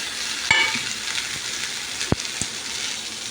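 Peanuts and coriander leaves frying in a hot pan of oil, a steady soft sizzle with a few sharp crackles and pops.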